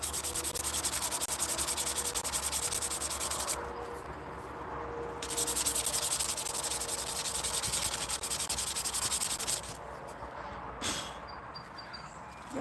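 Hand sanding to take scratches out of a surface makes a loud continuous abrasive rasp in long strokes, with brief pauses and shifts in intensity between passes.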